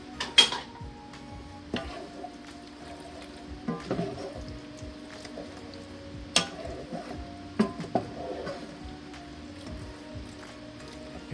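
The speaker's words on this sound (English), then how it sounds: "Get the garlic stirred up." Garlic and green chilies being stirred in a pan for shrimp enchiladas: quiet, intermittent scrapes and light metallic clinks of a utensil against the pan, scattered irregularly with no voices.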